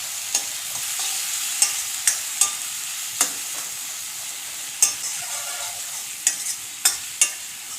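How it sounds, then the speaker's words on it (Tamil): Tomato sautéing in a pan for a vegetable curry, a steady low hiss with regular scraping knocks from a spatula, close by and without talk. "தக்காளி சேர்த்துட்டு நல்லா வதக்கிக்கோங்க"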